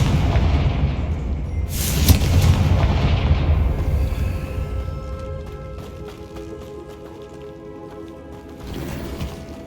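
A Confringo fire spell in the Hogwarts Legacy video game bursts with a loud booming explosion near the start, then rumbles and crackles away over several seconds, with game music and effects trailing underneath.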